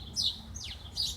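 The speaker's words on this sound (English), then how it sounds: "The birds are announcing that they've had a good day, and they'd like you to know about it." Small birds chirp outdoors on a late-May evening, with a few quick high tweets and a short descending call, faint against a low background rumble.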